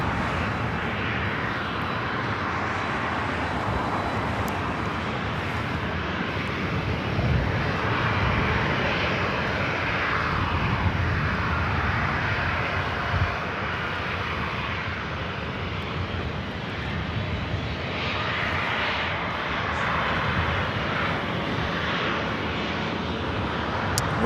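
An Air France Boeing 777 airliner passes at LAX airport, a loud sustained roar of jet engines that holds steadily throughout with broad rumbling noise and no talking.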